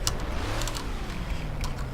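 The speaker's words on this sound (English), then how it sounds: "Hopefully you can hear me over the damn engine, so I'm gonna actually talk a bit louder now. Because the engine is quite loud." A V8 car engine idles and runs steadily in Garry's Mod with the ACF addon, giving a loud, continuous mechanical drone with a slight rising tone and no speech over it.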